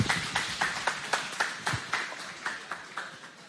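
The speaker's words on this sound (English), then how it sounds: "Round of applause for our next panel." An audience at a Bitcoin conference panel claps steadily, a dense run of sharp hand claps at an even rhythm, fairly close and lively, with no talking over it.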